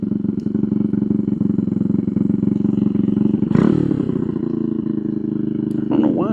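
The small petrol engine of an RPS Racer Nibbi PE26 idles with a steady, throaty putter, briefly revving up twice.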